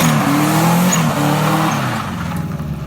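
Loud turbocharged car engine revving, then a rapid fluttering turbo chatter as the throttle lifts and the engine note drops away.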